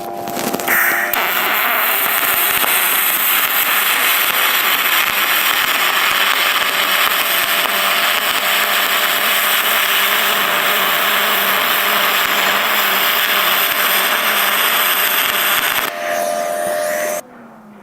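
An HTP MIG 2000 welder MIG-welds aluminum with a steady, loud crackling hiss that runs for about fifteen seconds, with a few pops at the start. Then the arc stops abruptly. No one talks.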